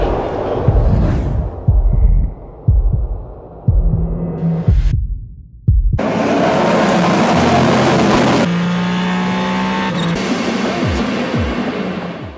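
Race car engines fire up at the start of the 24 Hours of Le Mans and rev loudly, deep throbbing roars rising and cutting off abruptly, close and overpowering with no voices.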